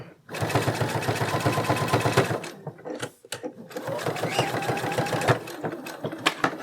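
A sewing machine stitches around the horn of a fabric dragon plush in fast, steady rhythmic bursts, close and loud, stopping briefly midway before running again.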